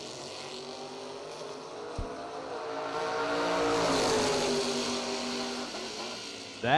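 Drag race cars launch side by side, with a Camaro in the right lane, their engines roaring from a distance, swelling in the middle and fading, with a sharp bang near the start.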